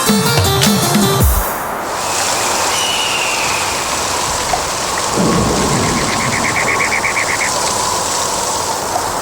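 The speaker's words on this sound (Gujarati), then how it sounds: "ફરીથી આકાશ કાળું થયું, વરસાદ ને હવાનું જોર વધ્યું" Thunder rumbles loud and close over steady falling rain and wind, then the downpour keeps on as a dense hiss with a few further low rolls, in a Gujarati children's cartoon storm scene.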